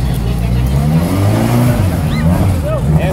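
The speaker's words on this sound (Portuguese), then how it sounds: "Motor desse carro, pessoal, ele tem duas turbinas gigantescas." A sports car engine with two huge turbochargers revs hard, giving a loud, continuous roar that rises and falls, with someone talking over it.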